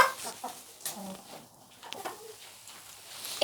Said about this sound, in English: It's chickens.